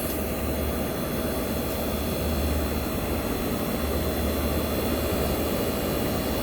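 A 1965 Fedders Weatherwheel window air conditioner runs loud and steady, its fan roaring broadly while the compressor adds a low, throbbing hum that swells and fades in slow pulses.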